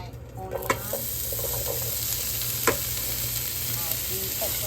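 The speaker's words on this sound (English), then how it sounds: "I'm going to add a bit of oil to it, not much because I'll be adding my onion," Oil sizzles steadily in a heated pot, with a few light clinks and stirring sounds over a constant frying hiss.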